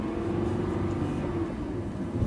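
A Lamborghini LP570 Superleggera accelerating in second gear at low speed, a steady, fairly loud engine rumble and whir held throughout, close by, with no talking.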